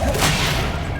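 A Bombarda explosion spell cast in Hogwarts Legacy: a sharp whooshing burst that opens loud and quickly trails off into a fading rumble, heard alone.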